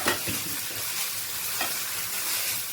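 Mint leaves sauté in a hot pan with salt, giving a continuous soft sizzle and crackle with occasional stirring scrapes, close and steady with no talking.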